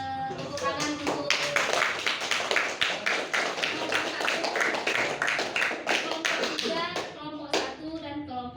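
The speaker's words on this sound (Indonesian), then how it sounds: "Kita beri tepuk tangan untuk" Applause from a classroom of students clapping hands together at the end of a group presentation, a steady dense patter lasting several seconds, fairly loud and close, with scattered voices underneath.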